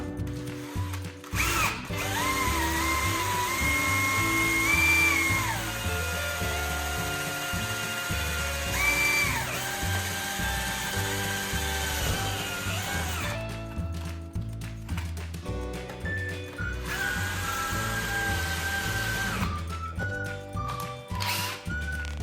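A power drill bores a small pilot hole to mount a shower tent on a Four Wheel Camper, its whining motor rising and dipping through several bursts of drilling with brief pauses, close and steady.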